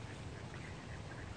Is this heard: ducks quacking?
yes